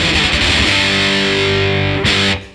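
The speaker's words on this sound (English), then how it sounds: "We can also combine our dive bombs with like alternate picking or like tremolo style picking." Loud, distorted punk electric guitar with rapid tremolo picking, the pitch sliding down in a dive bomb, then a brief bright burst before cutting off.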